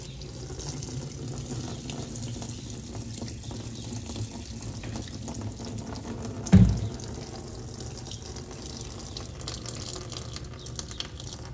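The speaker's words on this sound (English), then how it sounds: "I'm gonna pour some diesel through here just to help flush out any of that nasty crap" Liquid diesel pours in a soft continuous trickle into an International Harvester 140 tractor to flush it out, quiet and steady with a brief louder splash or knock midway.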